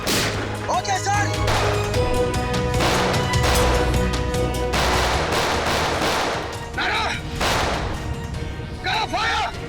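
Rapid bursts of gunfire in a Hindi police action show, loud and dense over music and effects, with shouted voices in between.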